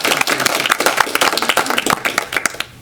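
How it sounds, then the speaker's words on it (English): Audience applause at a morning community gathering in Truckee, dense overlapping claps throughout, loud and fairly close, tapering slightly at the end. "Let's give them a round of applause for today."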